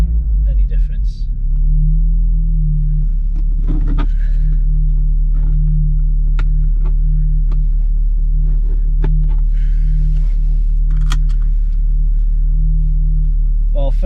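An Audi S3 8V on its first drive after a dogbone mount was fitted, heard from inside the cabin as a loud steady engine and road rumble with a constant low drone and intermittent clicks and knocks.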